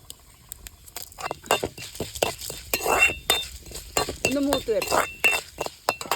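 Mustard seeds and urad dal splutter in hot oil with scattered sharp pops and crackles, mixed with spoon clinks and stirring against the pan, fairly close.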